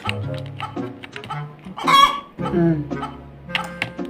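Chicken clucking from a video game, a few loud squawking clucks with rising bursts, heard close in short spurts between pauses; someone talks over parts of it.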